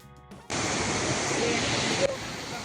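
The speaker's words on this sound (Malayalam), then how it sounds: "ആ വെള്ളം വരുന്ന സൗണ്ടും പിന്നെ ആ ഒരു ആംബിയൻസൊക്കെ വളരെ അടിപൊളിയായിരുന്നു" Waterfall in Coorg, heard as a steady, dense rush of falling water that starts abruptly and continues loud and close, with no talking over it.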